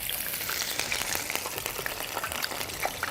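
A floured fish fillet sizzles in hot oil, a steady dense crackle with fine popping bubbles, close and continuous with no talking.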